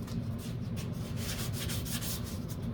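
Painted surface of a P51 model being sanded by hand, a continuous close scratchy rubbing with a quick back-and-forth rhythm, alone without speech.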